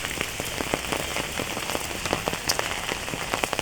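Steady rain falls outdoors at a home in India, a dense continuous patter with scattered sharper drops striking a nearby surface, no voices.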